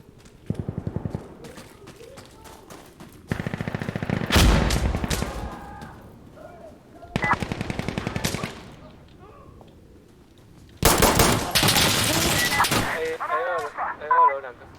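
Bursts of rapid automatic gunfire from the video game Insurgency Sandstorm, several loud volleys separated by short quieter gaps, with a heavy sustained burst near the end.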